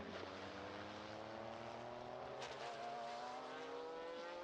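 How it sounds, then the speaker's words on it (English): The number 60 historic race car passes on the Estoril circuit during a classic-car race, its engine a steady, dense drone that sweeps slightly downward in pitch as it goes by, with no voices. "There we again see the number 60 car."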